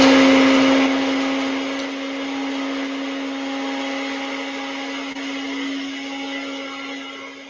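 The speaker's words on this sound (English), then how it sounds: "we're just going to grind this up in the NutriBullet" A NutriBullet blender grinding spices whirs steadily at high speed with a constant whine, loud and close, gradually easing slightly as it grinds.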